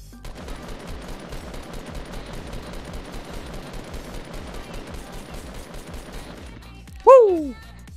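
Rapid automatic gunfire in Fortnite, a steady sustained burst of shots at moderate distance lasting several seconds, then stopping just before a short sharp effect sound.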